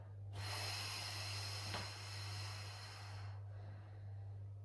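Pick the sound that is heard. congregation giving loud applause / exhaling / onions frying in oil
exhaling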